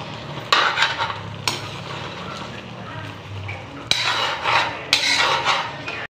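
Buttered shrimp in aligue crab-fat sauce cooks in a pan, giving a steady low sizzle while a utensil stirs and scrapes in bursts, with sharp clatters against the pan partway through and near the end.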